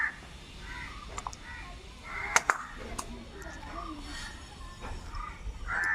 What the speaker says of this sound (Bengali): বাসা থেকে পড়ে গেছে ওই জন্য এত কাক চিৎকার করছে।